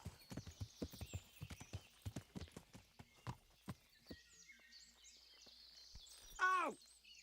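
Horse hooves clip-clop in the medieval video game Kingdom Come: Deliverance, a steady walking rhythm of clear hoofbeats, followed by a short horse whinny near the end.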